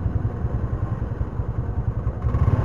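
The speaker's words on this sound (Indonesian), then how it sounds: "Jadi yang terdengar itu suara angin, suara mesin gitu." A motorcycle engine rumbles steadily while riding, captured by a GoPro action camera, with constant wind buffeting the mic in a dense, close, low roar.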